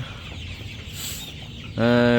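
Broiler chickens about 32 days old on a farm, clucking close by in a dense, overlapping flock murmur that ends in one loud, tonal squawk.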